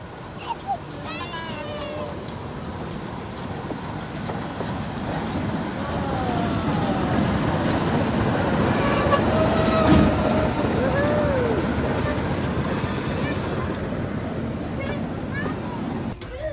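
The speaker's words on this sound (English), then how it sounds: "Back on the train, and we're on the side with no air conditioning." A passenger train rolls along in a steady, moderately loud rumble, with faint squeals and creaks from the rails coming through.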